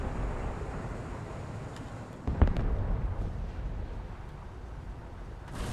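A tank in War Thunder fires a high-explosive shell, a single sharp boom that rings out over a low steady engine rumble.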